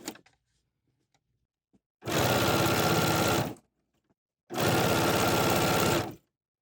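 A BERNINA 990 sewing machine stitches a watermelon quilt mat in two loud, steady bursts of about two seconds each, separated by quiet pauses.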